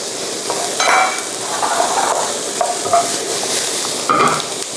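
Mushrooms tossed into a frying pan with pork and chili paste, sizzling steadily with occasional scraping and clinks of a utensil stirring against the pan, close and fairly loud, no talking.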